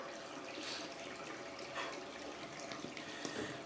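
Hot tap water runs steadily into a small bowl while a shaving brush is prepared, a soft, faint, continuous splashing hiss with a few brief clinks, and no talking.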